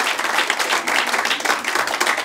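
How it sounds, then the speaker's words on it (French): An audience at an improv cabaret show applauds and cheers, a dense, steady burst of clapping from a full room that carries on with no pause. "faites un maximum de bruit pour Bruno"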